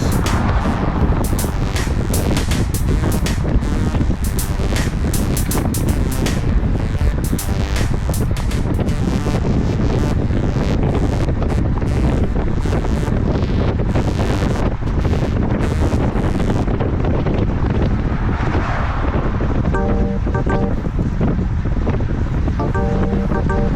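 Steady loud wind roaring across the microphone of a cyclist riding a road into a headwind, continuous buffeting gusts throughout with no talking.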